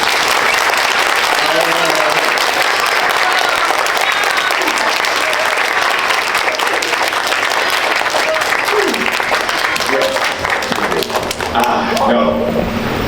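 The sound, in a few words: audience applause at graduation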